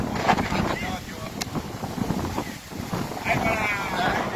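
Strong wind gusts outdoors in Vadiya ahead of rain, roaring and buffeting the microphone in uneven surges, with a voice faintly present beneath the rush.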